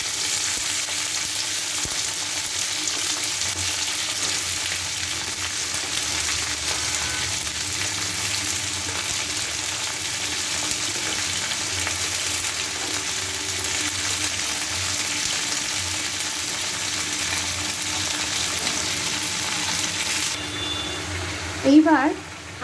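Mixed vegetables sizzle steadily in hot oil tempered with fenugreek, radhuni and cumin, a continuous close frying hiss with faint stirring, ending in a brief louder clatter.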